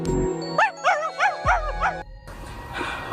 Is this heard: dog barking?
yes